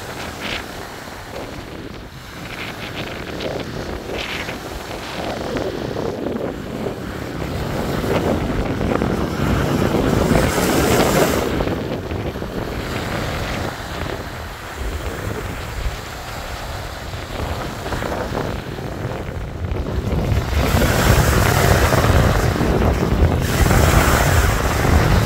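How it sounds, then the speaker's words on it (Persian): Open sea on the Gulf of Finland shore, with steady wind buffeting the microphone and waves rolling in, a continuous broadband roar that swells louder toward the end, no voices. "این بحر است"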